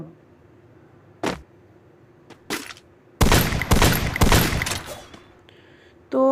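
Gunfire in the Garena Free Fire video game during a ranked match, a couple of isolated shots followed by a dense rapid burst of automatic fire, then quiet.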